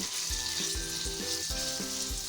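About 250 grams of minced meat (keema) sizzles steadily in a hot pan while a spoon stirs it, giving soft scraping strokes in a regular rhythm over the frying.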